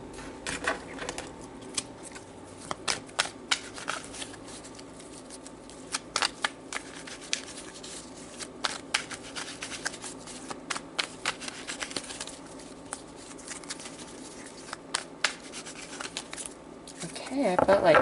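Tarot cards being shuffled and handled at close range, sounding as crisp rustling riffles and sharp slaps that come at irregular intervals, with a quiet room between them.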